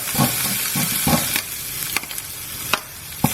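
Chopped garlic sizzles and spits in hot oil while being stirred. A steady frying crackle runs throughout, with sharper scraping ticks from the stirring, close and fairly loud.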